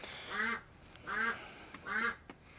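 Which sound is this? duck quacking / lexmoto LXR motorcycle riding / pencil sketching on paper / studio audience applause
duck quacking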